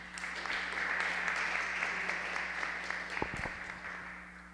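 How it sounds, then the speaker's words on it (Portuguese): A small audience at a school panel on Ultimate Frisbee claps in a soft, steady patter that thins out toward the end, fairly distant and faint, and a few low knocks come near the close. "Pode aplaudir, gente."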